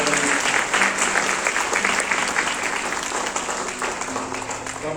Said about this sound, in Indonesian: Kita berikan tepuk tangan untuk keluarga baru.